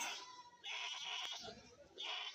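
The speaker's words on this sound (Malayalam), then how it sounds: "ഒരു മുട്ടൻകുട്ടിയെ വാങ്ങിയതാണ് ഇവിടെ കൊണ്ട് കെട്ടിയിരിക്കുന്നത്" A young male goat kid, tethered at a Kerala goat market, gives a few soft nasal bleats, faint and fairly close, against a quiet background.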